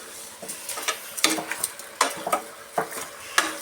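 Mutton curry is stirred after salt goes in, a spoon scraping and knocking against the pot in irregular close strokes over a light sizzle, with no talking.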